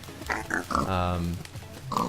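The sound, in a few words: pigs grunting in a video game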